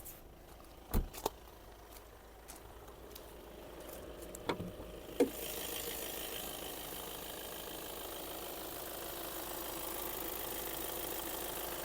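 A 200 hp Volkswagen Passat Alltrack 4Motion engine idles under an open bonnet, a faint, even hum that settles into a steady drone after a few sharp knocks and clicks early on.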